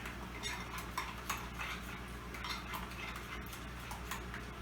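A utensil stirs Creole sauce in a bowl, giving faint, repeated clinks and scrapes in a loose rhythm, with no talking.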